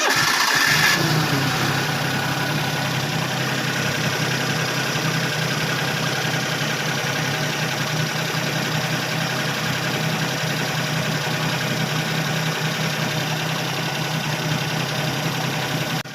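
A Perodua Kancil, fresh from an alternator bearing replacement, cranks and catches, then settles into a steady, even idle that hums on close by without a break.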